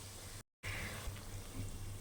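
Water poured into a biryani pot after the onions have softened, a steady close rushing and splashing that continues after a brief cut.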